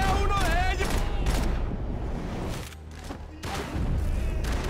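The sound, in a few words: gunfire in the video game Max Payne 3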